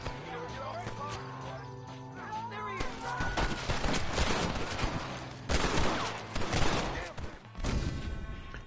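Rapid gunfire in the Western video game Red Dead Redemption: repeated loud shots and volleys crack over a musical score, dense and continuous, with voices shouting between bursts.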